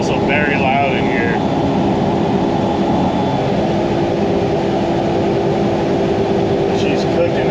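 Dump truck engine wound out at high RPM around 65 mph, heard from inside the cab as a loud, constant droning roar that fills the whole stretch.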